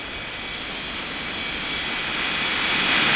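A jet aircraft taxis on the ground at Springbrook International Airport, its broad turbine roar rising steadily and drawing nearer over a few seconds with no voices.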